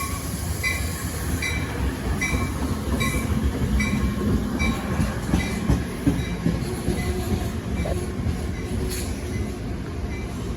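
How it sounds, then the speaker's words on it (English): A New Jersey Transit express commuter train rumbles steadily through Princeton Junction station nearby, wheels clicking in a regular rhythm over the rails with faint metallic squeals, loud and continuous. "This is an express train. It's approaching the station."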